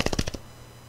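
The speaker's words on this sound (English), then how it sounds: "Broken. It's a broken Magic 8 Ball." A broken Magic 8 Ball is shaken, giving about five quick, loud rattling knocks in a rapid burst that stops abruptly, leaving a faint hum.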